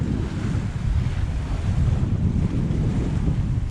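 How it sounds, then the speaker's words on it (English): Wind of about 18 knots and waves at sea aboard a sailboat making 6.5 knots with a building swell, a constant loud rushing roar of wind buffeting the microphone over churning water, with no voices. "the wind's picking up to about 18 knots now"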